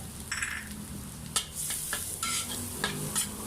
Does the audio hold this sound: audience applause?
no